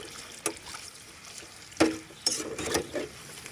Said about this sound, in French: Et comme tout à l'heure, je les remue.